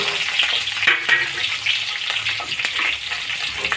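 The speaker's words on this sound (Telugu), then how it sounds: "ఉల్లిగడ్డ, పచ్చిమిరపకాయలు పొడిగా వేసాను కదండి" Onions and green chillies fry in hot oil in a village-style fish recipe, giving a steady, close sizzle and crackle with small pops and no talking.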